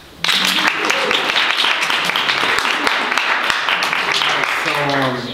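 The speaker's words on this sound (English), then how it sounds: "clap if you're sitting next to someone beautiful" A crowd at a spoken-word performance in a bookstore claps and cheers in a dense, close burst that holds steady, with voices rising through it toward the end.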